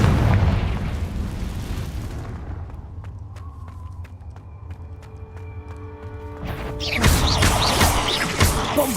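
A Confringo fire spell explodes in Hogwarts Legacy inside a cave, a loud booming blast that rolls off into a low rumble with ringing chime-like tones, then a second burst of crackling noise near the end.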